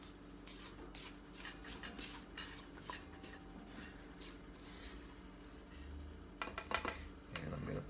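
Soft scraping and shuffling as cookie dough for rosemary-honey sablés is worked out of a bowl, quiet irregular scuffs and taps with a couple of sharper knocks near the end.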